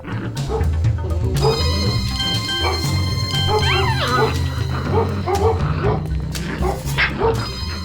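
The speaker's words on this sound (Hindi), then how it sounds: "कितने लैब्राडोर्स आए थे जिन्हें आपने खास ढंग से भौंकने की ट्रेनिंग दी हो" A Labrador barks and yips repeatedly at close range, with whimpering, whining, higher-pitched cries mixed in. Background sound continues under the dog throughout.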